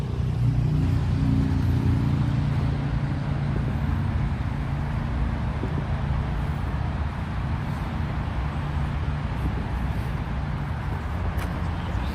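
Steady two-way street traffic on West End Avenue in New York City, a continuous low rumble of mixed cars and buses passing at moderate distance with no break and no one talking.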